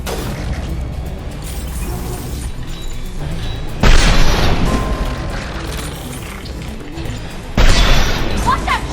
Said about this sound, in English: Concussive shot.